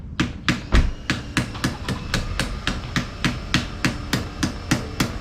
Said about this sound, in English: Just use a bigger hammer, Nick.